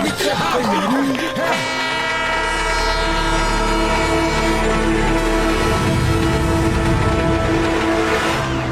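A cartoon train rumbles loudly and continuously, with a low engine drone and tonal horn-like whistling, after a brief opening of cartoon sound effects and voices.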